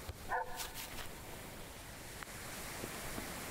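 A puppy in the video game Selfloss lets out one short bark early on, heard moderately close over a soft, continuous wash of surf-like ambient noise.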